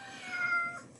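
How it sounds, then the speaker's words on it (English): A house cat gives a single drawn-out meow, close and clear, lasting about a second with no talk over it. "Oh, that's my cat French fry."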